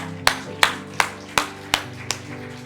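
Clapping at a Korean Sunday church service, six sharp evenly spaced claps in a slow steady rhythm, close and distinct over a low sustained musical tone.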